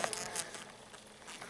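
Honeybees at a Layens hive in February feed on soft candy, giving a faint, steady insect buzz with a few nearby wingbeat passes and no talking.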